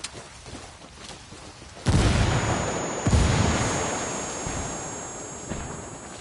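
A frag grenade blast and gunfire from a PS4 shooter game: a heavy boom lands around two seconds in, a second burst follows about a second later, and both roll off into a long rumbling tail, close and loud, with no talk.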